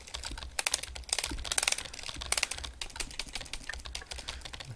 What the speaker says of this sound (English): Punching the keyboard doesn't make it type quicker.